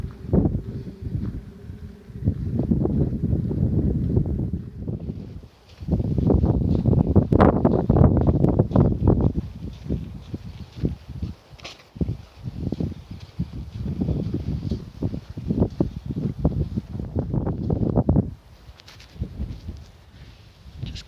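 Strong outdoor wind buffets the microphone in long roaring gusts, loud and close, easing briefly between surges.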